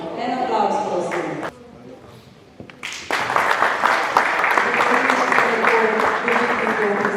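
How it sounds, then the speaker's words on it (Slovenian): Audience applause for award recipients at a Slovenian table tennis awards ceremony. Clapping and voices run at first, briefly drop to a quieter lull, then a loud, dense burst of applause returns and holds to the end. "En aplavz, prosim."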